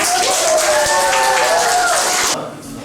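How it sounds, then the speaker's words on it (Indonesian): Children in a classroom clap together during a lesson, a dense, loud burst of hand claps with mixed young voices and shouts that stops abruptly near the end. "berikan tepuk tangan"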